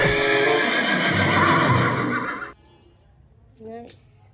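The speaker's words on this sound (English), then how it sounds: "wow, this is a horse." A toy horse gives a loud electronic neigh and whinny lasting about two and a half seconds, then goes quiet before a brief voice is heard.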